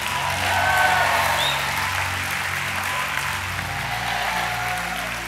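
Church congregation applauding during a sermon, a broad continuous wash of clapping with some faint crowd murmur and no speech.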